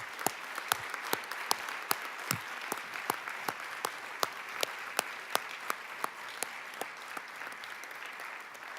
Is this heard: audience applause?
yes